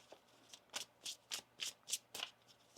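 Quiet, close shuffling of tarot cards, seven or eight soft riffling swishes in an even rhythm, with no voices.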